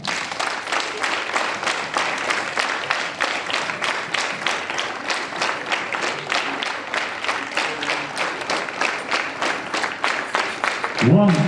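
Children at a morning school assembly clap their hands together in a steady, evenly spaced rhythm for several seconds, many hands in unison at moderate volume, with the crowd's clapping as the main sound.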